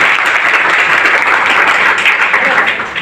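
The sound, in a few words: audience applause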